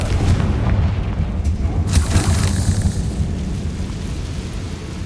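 A Confringo fire spell blast in Hogwarts Legacy: a heavy, loud booming explosion with a sharp crack about two seconds in, then a long rumbling roar that slowly fades.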